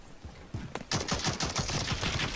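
Rapid automatic AK rifle fire from the online shooter Rogue Company, a close, loud burst of evenly spaced shots that starts with a few scattered rounds and then runs continuously to the end.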